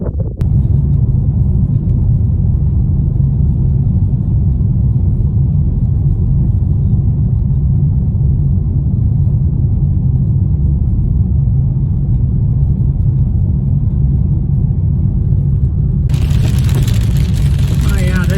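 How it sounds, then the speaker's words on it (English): Car driving at night through a storm: a loud, steady low road rumble runs throughout, and a brighter hiss of rain or spray swells up near the end. "Driving through another storm in the middle of the night this time."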